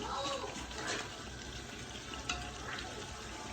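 Water poured into a pot of biryani while cooking, a steady broadband splashing rush running the whole time, with a voice faintly underneath.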